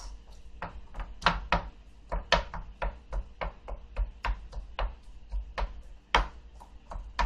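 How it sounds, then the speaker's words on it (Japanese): Sushi rice being cut and folded with a rice paddle after vinegar is added, a steady series of light, uneven tapping and scraping strokes against the bowl, close and fairly quiet, with no one talking. "酢がかかりましたらしゃもじでご飯を切るように混ぜていきます"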